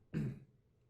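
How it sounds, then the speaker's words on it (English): A single short throat clearing, close and soft, followed by near silence. "I clear my throat."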